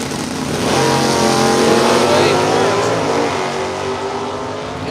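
A 1968 Super B with a 383 cubic inch Mopar engine and AVS carburetor, at a Super Stock drag race, roars loudly and continuously with rising engine pitch over several seconds, filling the scene with heavy racing noise.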